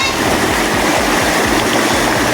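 River water rushes and gurgles steadily in a loud, close, continuous flow, with splashing texture throughout and no clear speech over it.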